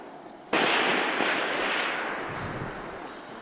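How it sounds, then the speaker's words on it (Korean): A single sharp sniper rifle shot cracks out during night-time special forces training, loud and close, then rolls away in a long fading echo across the range. "어둠을 뚫고 울려 퍼진 총성."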